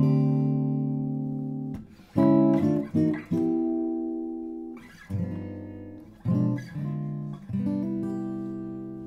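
A jazz guitar works through a chromatic chord idea, short strummed voicings sliding between sustained chords in an uneven rhythm, clear and close with no voices.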